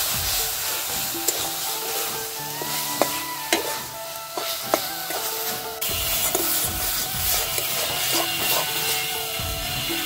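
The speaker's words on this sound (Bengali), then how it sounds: "দিয়ে অল্প নাড়াচাড়া করে দেবো" Gandha bhadali leaf paste fries in a pan with salt and turmeric while being stirred, giving a close, steady sizzle broken by scraping and knocking strokes of a spatula.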